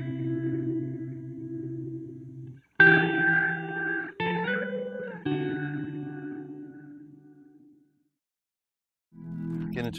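Electric guitar run through a studio effects pedal with chorus and slight distortion, sustained swirling notes and chords changing in tone, with a silent gap near the end before a final chord returns, moderately quiet and alone.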